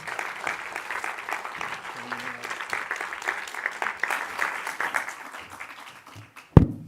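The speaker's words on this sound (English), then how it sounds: "big round of applause." Audience applause closing an evidence-informed policymaking conference, a dense, steady wash of many hands clapping that builds and holds for several seconds, with a few voices talking in the room underneath, then tapers and ends with a sharp thump.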